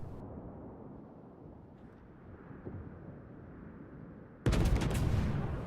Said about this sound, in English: So I shoot my guns, just hoping to get a bit of a hit on him.